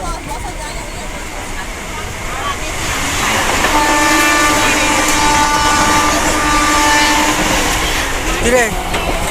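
A crowded local train near Ramrajatala station rolls along with a loud, continuous rumble that swells partway through, while a sustained horn sounds in the middle and voices talk nearby.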